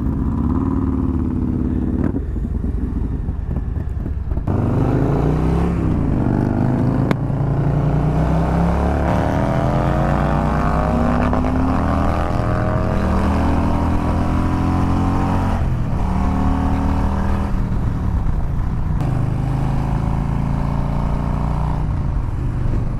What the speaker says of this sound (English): Doesn't that exhaust sound wicked?